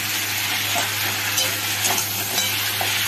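Spices with cumin and coriander powder fry in a pan with fish, giving a dense continuous sizzle close up, with faint stirring scrapes and no voices.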